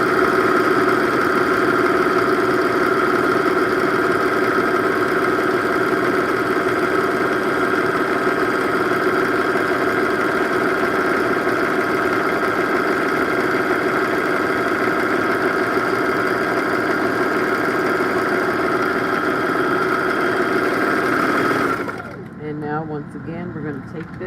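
A sewing machine stitching a mini dress hums in one long, steady, fairly loud motor whir with a constant pitch, running for over twenty seconds before stopping and giving way to quieter handling noises.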